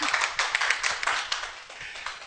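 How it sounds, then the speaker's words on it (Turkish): Studio audience clapping on a live Turkish TV variety show, a steady dense patter of many hands, close and fairly loud, with no talking over it. "Siz alkışlayın dostlar."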